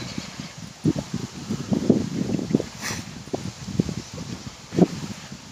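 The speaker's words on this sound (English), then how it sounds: "It's really windy." Strong gusts of wind on a cold outdoor walk with dogs, buffeting the microphone in uneven rumbling bursts and rustling close by, with no talking.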